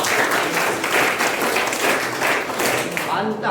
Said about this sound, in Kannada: ಚಪ್ಪಾಳೆ ಹೊಡೆದಿದೆ